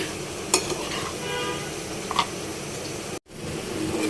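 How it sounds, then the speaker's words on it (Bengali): Bitter gourd (karela) frying in a pan, a steady close sizzle with a couple of brief clinks of a utensil against the pan and a momentary cut near the end, no talking. "আর এখানে করলা ভাজি করছি"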